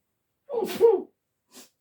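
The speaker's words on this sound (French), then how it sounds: "Ouh là là, je vais éternuer." A single close sneeze with a sharp intake and explosive burst, followed a moment later by a brief faint sniff.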